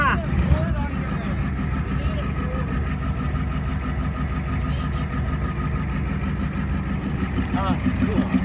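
A 1989 Ford F-350 dually with a 7.3 IDI diesel idles close by, a steady loud rumbling clatter throughout, with voices talking over it.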